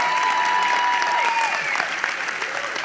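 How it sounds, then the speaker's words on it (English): Loud, steady audience applause fills a national chapter business plan competition hall at Natcon 2018, a dense crowd clapping continuously for about three seconds with no pause. "Here we get the crowd goes wild"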